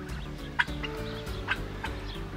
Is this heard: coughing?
no